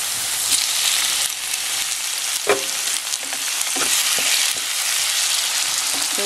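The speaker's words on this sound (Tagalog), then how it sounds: "lutuin lang po natin yung tomatoes" Tomatoes fry in hot cooking oil for a Filipino ginisang corned beef, giving a loud, steady sizzle broken by scrapes and knocks of stirring, close and without talk.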